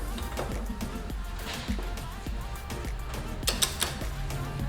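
A socket wrench with a 36 millimeter socket ratchets a steering damper nut down on a 2019 Kawasaki Ninja ZX-6R 636, giving a close series of irregular clicks and metallic creaks in a quiet garage.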